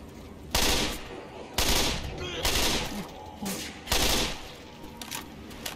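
Bursts of rapid gunfire from the game Left 4 Dead, several loud volleys a second or so apart, with a faint voice underneath.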